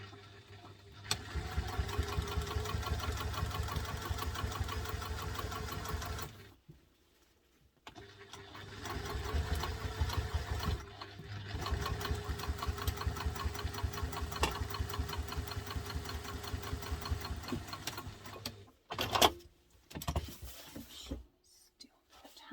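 A sewing machine on a long top stitch sews a bulky bowler bag, running in a loud, rapid, steady mechanical chatter close by, pausing twice, then a few short bursts near the end.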